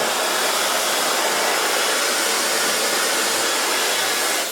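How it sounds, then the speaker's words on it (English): A hair dryer blows hair dry in a salon, a steady loud whooshing roar held close and unbroken throughout. "For blow drying."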